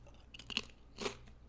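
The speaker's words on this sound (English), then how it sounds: "immediately the thing that I noticed is like the textural crunch of this" Close, crisp crunching of jalapeno-flavored Takis chips: a burst of bites followed by one louder crunch, with no talking.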